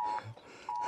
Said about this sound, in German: Notfallalarm. Probewarnung. Bundesweiter Warntag.